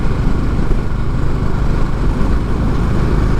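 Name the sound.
Honda Highness CB 350 motorcycle engine carrying two riders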